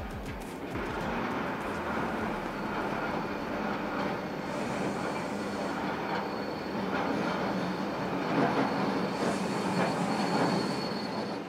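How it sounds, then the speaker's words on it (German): A Rhaetian Railway Ge 6/6 I Krokodil electric locomotive shunting a special train onto a siding, with steady rolling wheels and squealing flanges heard from nearby, continuous and fairly loud with no talk. "wird die Lok den Extrazug dann ins Nebengleis rangieren, wo der Zug bis zur Rückfahrt warten wird."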